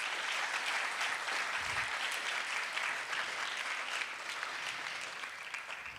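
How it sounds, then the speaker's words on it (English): Sustained audience applause after a Bharatanatyam Arangetram dance debut, even and continuous across the whole stretch, heard from a distance in a large hall and fading slightly near the end. "I think this really needs a big round of applause."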